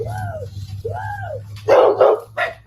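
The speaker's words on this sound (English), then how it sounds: "Can I put my dogs up?" Dogs bark at close range: two drawn-out whining yips are followed by several sharp, loud barks in quick succession.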